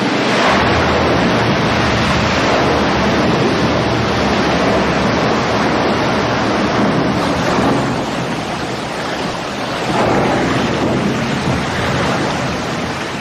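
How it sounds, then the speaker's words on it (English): An icebreaker ship's bow crashes through Antarctic ice in a loud, continuous roaring rumble of grinding and breaking, dense and unbroken, with slight swells in intensity. "The crash of the ice against the bow was constant"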